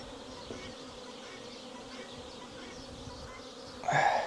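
Bees buzzing steadily around a backyard beehive, a constant low drone close by with a louder burst of buzzing near the end as one passes the microphone.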